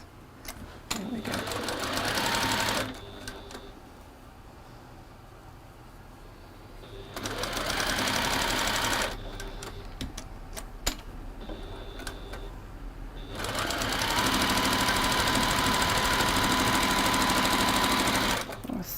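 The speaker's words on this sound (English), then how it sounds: "I'll sew that one on there." A sewing machine stitching fabric runs in three steady whirring bursts separated by quieter pauses, with soft talk and handling sounds between the runs.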